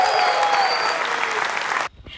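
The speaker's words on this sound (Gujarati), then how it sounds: "તાળીઓ થઈ જાય એવરીબોડી કમ ઓન" Studio audience at a live Gujarati comedy talk show gives a burst of steady, dense applause that cuts off abruptly near the end, leaving near silence.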